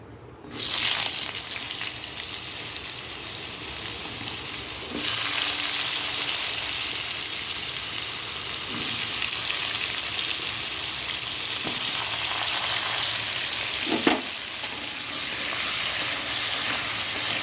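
Steady hissing sizzle of pointed gourd frying in hot oil left from frying shrimp, starting abruptly and continuing at an even level with a few small pops.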